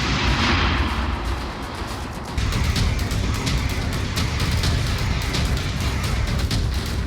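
Russian army artillery bombardment in Kharkiv, Ukraine: a loud, continuous rumble with repeated sharp blasts and bursts throughout, and no voices.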